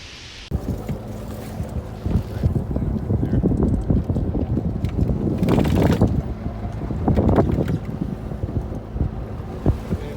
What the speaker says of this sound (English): Let's take a look at the Shane family's adventure sailing on the Lazy Jack schooner.